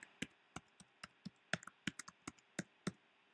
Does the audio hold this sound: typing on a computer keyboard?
yes